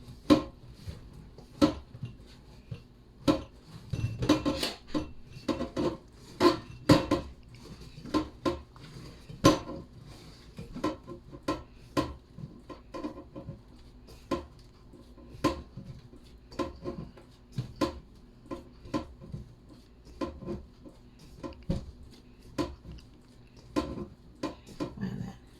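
About a kilo of pizza dough is kneaded by hand on a floured surface, making a close series of soft, irregular thumps and slaps that repeat over a quiet background.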